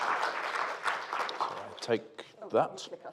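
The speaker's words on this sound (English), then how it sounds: "give him a big round of applause" An audience applauds a speaker at an early-years literacy forum, a continuous wash of clapping with voices speaking over it.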